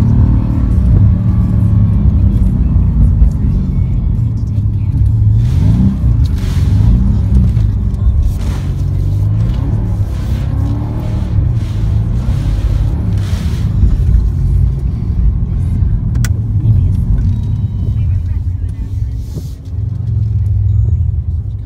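A Mercedes-AMG car with traction control off, sending its power to the rear wheels, accelerates hard. Its loud engine roar rises and falls through repeated revs for about twenty seconds, with occasional voices.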